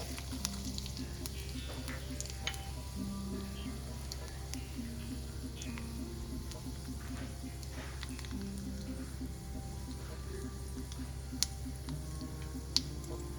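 Curry leaves and sesame seeds spluttering in hot oil for a tempering over a fasting-style khandvi dish, a steady soft sizzle with a few sharp pops, heard close without talk.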